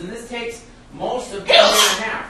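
A single sharp sneeze bursts out near the end of a lecture, loud and close, right after someone speaking in a classroom.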